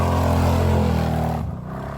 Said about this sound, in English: That almost sounded like a small block V8.